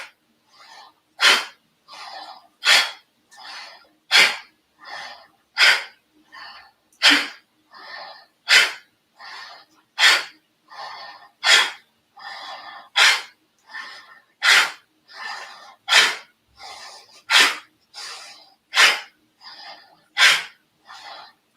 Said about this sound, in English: No matter what pranayam you are doing, inhale, belly big, exhale, belly in.